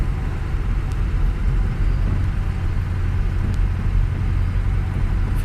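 A 2005 car engine drops back to idle after a cold start and holds a steady, loud, close rumbling drone, with faint rattles now and then.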